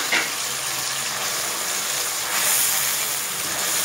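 Onion frying in a pan for Lahori chikar cholay, a loud, steady, close sizzle with an even hiss that holds without a break from start to finish.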